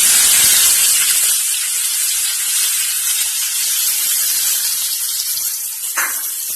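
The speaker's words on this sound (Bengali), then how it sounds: "কুচনো পেঁয়াজটা ভাজা হচ্ছে।" Chopped onion fries in oil with chillies in a pan for mutton biryani, giving a loud, close, steady hissing sizzle that eases slightly after a bright start, with a brief clink near the end and no talk.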